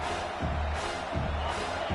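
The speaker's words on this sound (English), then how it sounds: "This crowd, full throat, splitting the eardrums and letting them know it's going to be a long day." A stadium crowd at a football game roars steadily in a loud, sustained wash of cheering, with a faint voice mixed underneath.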